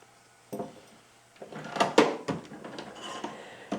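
A drawer of a Kennedy machinist toolbox slides open and shut with wooden scrapes and a couple of knocks, close up and moderately loud, with no talking.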